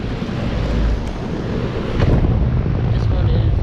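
A 2016 Goodman GSX14 2.5-ton air conditioner with a Copeland scroll compressor and a Broad Ocean fan motor runs outdoors, giving a loud, steady broadband whoosh and hum that swells slightly partway through.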